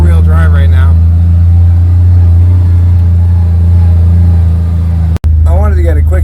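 A quad ATV grinds along in low gear with four-wheel drive on a rough forest road, a steady deep engine drone and rumble close by, with someone talking over it.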